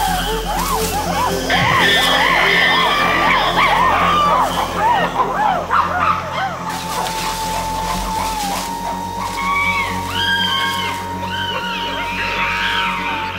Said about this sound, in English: the aggressors scream and drum on buttress roots.